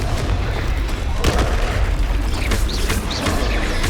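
Confringo spell explosion in Hogwarts Legacy, loud booming blasts and bursts amid ongoing combat effects, with a voice briefly heard among the noise.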